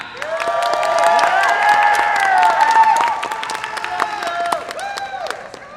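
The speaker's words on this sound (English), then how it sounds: "I'd like to give a big round of applause to the man running the ones and twos" A crowd at a cosplay contest at the Visioncon 2023 convention applauds and cheers loudly for the DJ. The clapping is dense and sustained, with whoops and shouts rising over it before it gradually tapers off.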